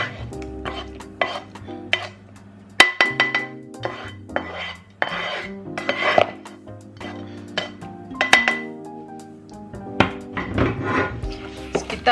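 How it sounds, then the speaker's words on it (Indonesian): Onions stirred in a pan for Swedish-style köttbullar meatballs, with a utensil clinking and scraping against the metal in irregular bursts, up close and alone. "Kita aduk."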